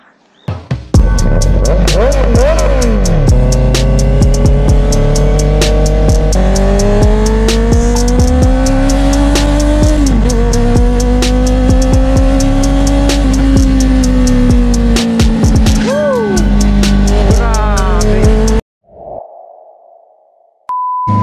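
A Honda CB650R motorcycle fitted with an aftermarket exhaust roars loudly up close on a road ride, revving through rising gear pulls with shifts between them, then cuts out into near silence before a brief faint sound at the end.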